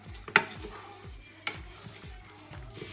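Meat and spices for a prune tajine stirred together in a pot, giving soft scraping and clinking strokes in a steady rhythm with one sharper knock of utensil on the vessel.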